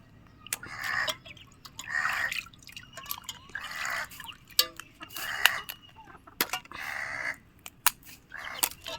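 Water dripping and splashing while crabs are washed for a curry, in short repeated bursts with sharp drip ticks in between; fowl cluck faintly in the background.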